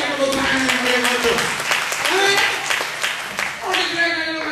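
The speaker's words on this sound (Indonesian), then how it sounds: "Berikan tepuk tangan yang meriah itu." A church congregation applauding loudly and continuously, a dense wash of clapping with voices and shouting mixed in throughout.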